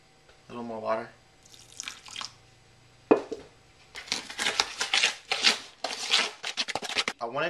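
Water pours and splashes into a wet, sloppy mud mixture with bonding agent up close, with squelching and stirring sounds; a voice speaks briefly near the start.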